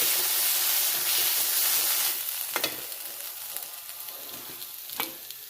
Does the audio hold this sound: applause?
no